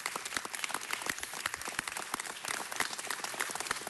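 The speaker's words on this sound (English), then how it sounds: "Give them a round of applause." Audience at a city council meeting giving a round of applause, a crisp patter of many individual claps, moderately loud and steady for a few seconds with no talking.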